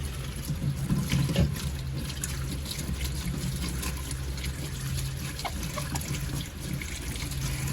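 Tap water runs steadily into a sink while okra is washed, a continuous close splashing stream with no talk.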